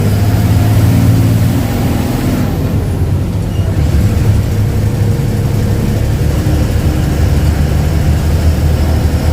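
An SL Trucks goods truck between Goa and Bijapur pulls away slowly with a heavy, continuous close engine drone that dips briefly in pitch and then holds steady, with no voices over it.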